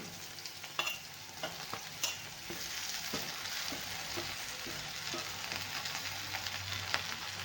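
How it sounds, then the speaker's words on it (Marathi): Okra stir-fries in a pan with already fried onion and green chili, a continuous soft sizzle with several light scraping knocks of a spatula stirring, close but quiet, no talking. "भेंडीला आपल्याला चांगली परतून घ्यायची आहे"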